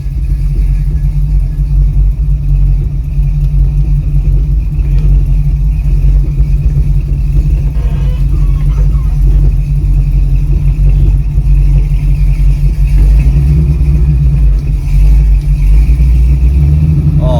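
A Ford Mustang engine accelerates smoothly in a continuous deep, loud rumble that holds steady without surges or stumbles, heard from inside the car.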